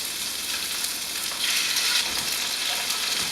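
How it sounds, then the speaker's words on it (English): Large chicken pieces sizzle in hot oil in a pan, a continuous close crackling hiss that swells briefly midway, with no talking. "that sizzle lets you know it is ready"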